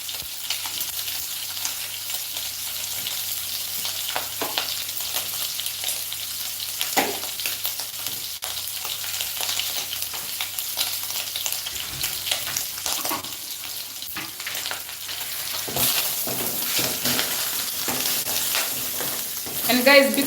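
Oil sizzling in a pan during cooking of beef biryani, a loud steady crackling hiss that runs continuously with small bursts of spatter throughout.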